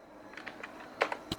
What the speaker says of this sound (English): Click on this and type here